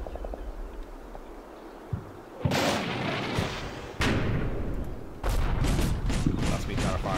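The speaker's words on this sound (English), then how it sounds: "That's me trying to fire an RPG." In the video game Combat Mission Shock Force 2, an RPG fires with a sharp blast, then more heavy gunfire and explosive bursts follow in loud, sudden waves.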